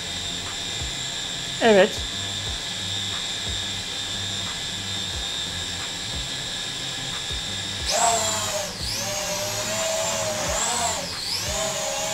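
A Corby Drones Skymaster SD02 toy drone lifts off and flies, a thin high electric whine with steady rotor buzz that swells and wavers in pitch, with a brief word spoken early on.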